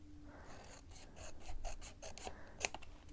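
Paper card border being trimmed by hand while assembling a large junk journal envelope, giving a quiet run of short rasping snips and rubs close by, with one sharper click near the end and no talking.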